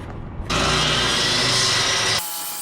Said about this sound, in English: I've got to go ahead and trim the other piece down so that it bears on the wall